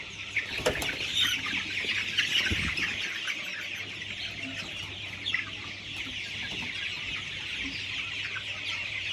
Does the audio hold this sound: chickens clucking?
yes